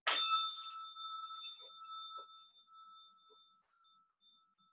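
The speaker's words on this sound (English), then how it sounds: "I'll ring the bell to start us and invite you just to bring your attention to the beginning" A mindfulness bell struck once to open a meditation session, a bright clear ring with a sharp onset and a long pure tone fading slowly into silence over several seconds.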